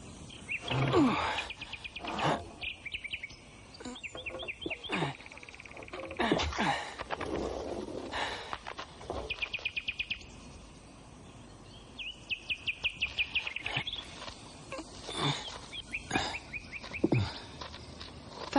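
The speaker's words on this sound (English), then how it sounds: "It's very kind of you to come and sing to me." A bird chirps and tweets in repeated short bursts of song, fairly close, scattered across the scene among other faint background sounds.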